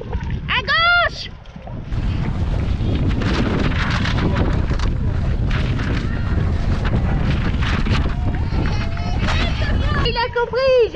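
Strong wind buffets the microphone at the Lyon marathon, a loud continuous roar rushing for most of the stretch, with people speaking at the start and end.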